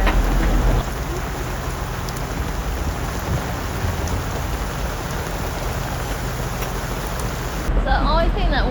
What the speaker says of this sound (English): Oh. You can hear the rain now.